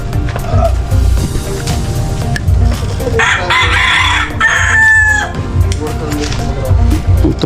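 Chickens on a rural Philippine farm, a hen settling onto a nest in a coop, with loud clucking and a rooster crowing mid-clip over steady barnyard noise and scattered knocks.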